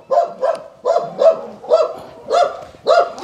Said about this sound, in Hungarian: A kerítés mögül ott ugatnak a kutyák, védik a területüket, és Mangónak nem kéne erre válaszul támadóla